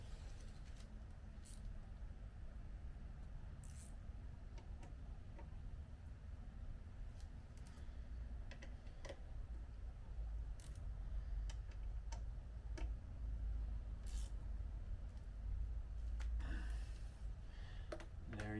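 A ratchet tightens the mirror bolts on a Jeep TJ, giving faint, steady clicking ticks over a low background hiss.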